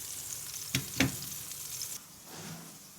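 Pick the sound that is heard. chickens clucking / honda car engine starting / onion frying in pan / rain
onion frying in pan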